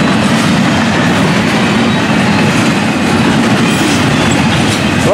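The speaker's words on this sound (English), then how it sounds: "this train, FEC's 101" Florida East Coast Railway freight train 101 rumbles past steadily and loudly, with a continuous roar of wheels on rails and faint clickety-clack throughout.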